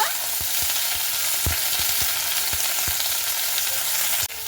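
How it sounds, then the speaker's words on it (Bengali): Flat beans frying in a pan, a steady close sizzle punctuated by a regular series of sharp spatula taps and scrapes as they are stirred, ending with a louder knock. "সিমটাকে একটু ভালো মতো করে ভেজে নেব"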